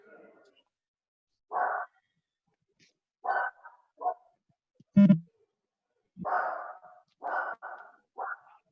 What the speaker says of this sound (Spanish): Denle un chinelazo a su perro, por favor, para que se calle.